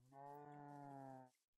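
A single drawn-out cow moo from the Minecraft video game, a clear, rich tonal call lasting over a second before cutting off abruptly, heard alone and fairly faint.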